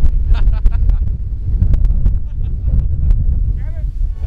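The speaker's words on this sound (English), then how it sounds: "Still super windy like yesterday." Strong gusting wind in Cape Town buffets the microphone with a constant low roar, while a voice speaks briefly over it.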